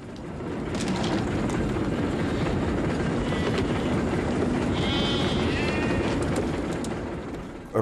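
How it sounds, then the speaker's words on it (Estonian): An old train runs steadily through a train robbery scene shot for a film, a loud, continuous rumbling and clattering roar with faint high squeals partway through. "Rongi rööv, me saime mingi imega selle vana susla kuidagi liikuma."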